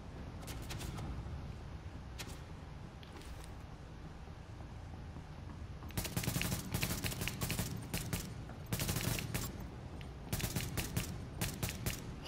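Rapid bursts of gunfire from a gun in The Division video game, several clustered volleys of sharp cracks in the second half over a low background rumble, with sparse isolated shots earlier.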